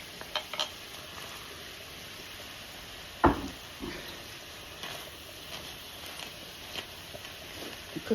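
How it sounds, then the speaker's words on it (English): A chopped yellow onion cooks in a pan with a soft, steady sizzle at low level, broken by one sharper clatter of a utensil and a few light taps against the pan. "Cook that down a little bit till the onion gets soft."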